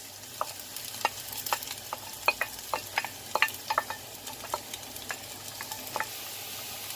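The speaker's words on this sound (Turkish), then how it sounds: "Küp küp doğradığımız iki büyük baş soğanımızı soteleyeceğiz." Diced onions sizzle steadily as they sauté in a hot pan while a utensil scrapes and taps against it in irregular strokes, close up, with no talking.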